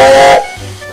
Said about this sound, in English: from far away an engine whistled